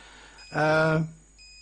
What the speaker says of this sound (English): I've got to turn this alarm off